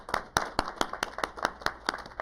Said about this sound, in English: So if we could give a big round of applause for Vincent for his service to the city.